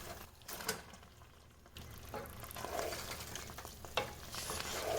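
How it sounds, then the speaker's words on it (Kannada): Fried prawns get stirred into sizzling masala in a pan, with a soft continuous sizzle under scraping stirring strokes and occasional louder spatula knocks, fairly quiet and without speech. "ಈ ಪ್ರಾನ್ಸ್ ಮತ್ತು ಮಸಾಲವನ್ನು ಚೆನ್ನಾಗಿ ಮಿಕ್ಸ್ ಮಾಡಬೇಕು."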